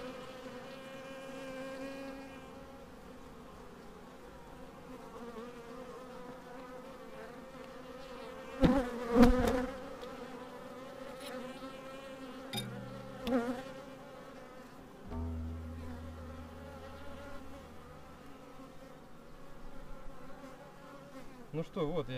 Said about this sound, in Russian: Пчелы доедят.